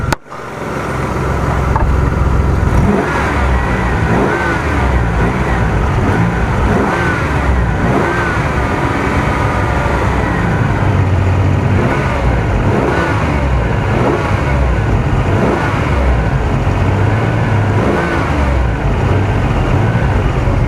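A 2004 Nissan Xterra engine runs steadily and loudly at close range, with a sustained idle and occasional rising revs throughout, and no voices.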